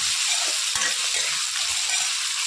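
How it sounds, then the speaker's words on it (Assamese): Ginger and garlic fry in oil for a taro leaf curry, giving a loud, close, continuous hiss and sizzle with soft stirring bumps underneath. "আদা নহৰুখিনি অকণমান ৰঙচুৱাকৈ ভাজি"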